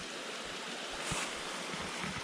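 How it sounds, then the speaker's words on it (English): A small mountain stream flowing over rocks, a soft continuous rush of water heard close and fairly quiet, with a few low bumps, no speech. "This cool little stream."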